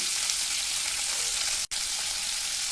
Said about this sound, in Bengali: এবার আমি ফুলকপিগুলো ভেজে নেবো